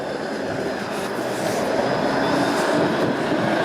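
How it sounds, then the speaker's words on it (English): A Toronto streetcar pulls in along Gerrard Street East in the Upper Beaches, a loud, close, steady rumble of rail and wheel noise that swells slightly as it nears, with no voices. "Here comes the streetcar."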